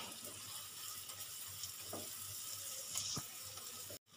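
Ground spices, including cumin powder, fry on medium flame for masoor dal, a soft continuous sizzle with faint scrapes of stirring that cuts off abruptly near the end.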